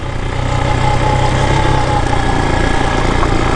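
A Chinese TBR7 dirt bike sits with its engine idling nearby, giving a steady, loud, low chugging putter with an even rhythm and no voices over it.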